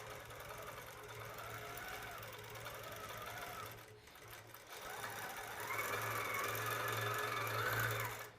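A quilting machine stitches steadily across a baby quilt, its motor hum running continuously and swelling louder toward the end, with no speech over it.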